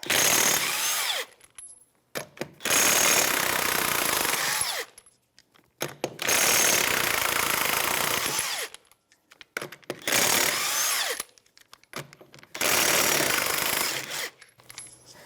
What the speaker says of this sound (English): 21mm socket, and we are going to remove the tire